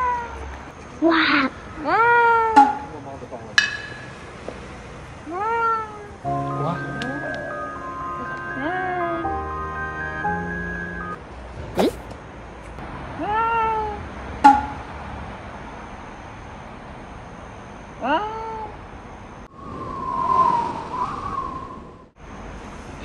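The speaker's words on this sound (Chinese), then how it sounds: "你有听过破音的猫叫声吗？" A cat meowing with a cracked, breaking voice outdoors at night, repeated short wavering calls scattered over the stretch, interspersed with people talking and a brief electronic melody.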